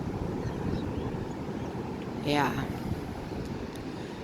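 Broadband wash of ocean waves rolling onto a beach, steady and wind-buffeted, with a brief swell near the middle and a short spoken word over it.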